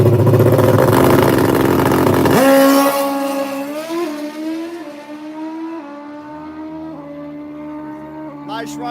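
A drag racing motorcycle making a solo run at Rockingham Dragway: a loud, close, high-revving engine roar that shifts pitch through the gears and fades as the bike pulls away.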